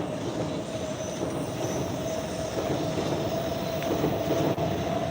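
A Shinkansen bullet train passes through a city, heard as a steady, loud rumbling roar with a faint high whine that holds throughout and has no talking over it.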